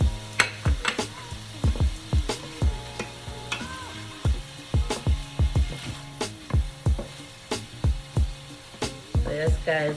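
Vegetables with shrimp, thyme, pepper and pimento stir-frying in a pan, a steady sizzle broken by frequent sharp scrapes and clanks of a utensil stirring, close and loud throughout.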